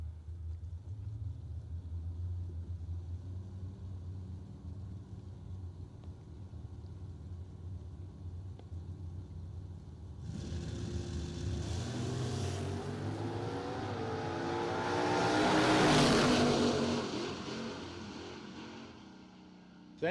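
Drag race cars launch down the strip with rising, roaring engine noise that builds to a loud peak before fading, heard from a distance under low background rumble, with faint talk.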